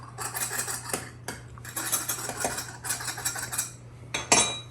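A knife trims excess dough in a kitchen, giving a series of close scraping, clinking strokes against a dish in irregular bursts over a low steady hum.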